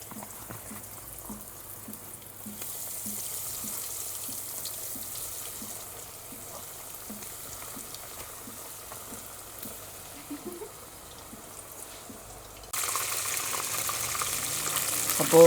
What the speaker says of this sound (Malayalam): ഞാൻ കുറച്ച് ഫിഷ് ഫിംഗേഴ്സ് വാങ്ങിച്ചിട്ടുണ്ട്. നമുക്ക് ആദ്യം അത് ഫ്രൈ ചെയ്തെടുക്കാം.